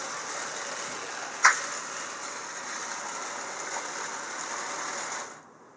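A vintage Lionel Marx toy train engine from an 1829-style set runs with a steady, close mechanical whirring chug, broken by one brief sharp click midway, then cuts off near the end.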